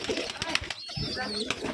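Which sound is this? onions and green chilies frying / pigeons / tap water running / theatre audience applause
pigeons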